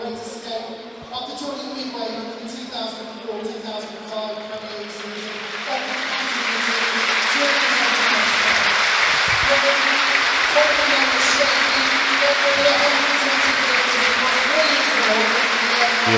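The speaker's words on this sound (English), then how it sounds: "There'll be a minute's applause before the game starts for Craig Shakespeare and Kevin Campbell" A large stadium crowd at a Leeds United versus West Bromwich Albion football match breaks into sustained applause for a minute, swelling from a PA announcement voice into a dense, loud, continuous wash of clapping.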